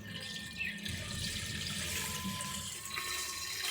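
Tap water runs steadily into a fish tank, a continuous close rushing splash with no talking.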